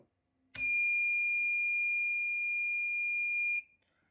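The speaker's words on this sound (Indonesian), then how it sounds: "sensor dapat membaca adanya api dan buzzer berbunyi" A homemade flame sensor's buzzer sounds when it detects fire: one steady, piercing electronic tone, loud and clean, holding for about three seconds against silence before cutting off.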